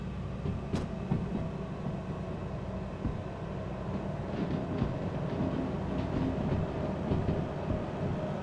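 Locomotive hauling empty cars up a climbing left turn in the Derail Valley train simulator, a steady low engine rumble with faint rail clicks and rattles, continuous and even.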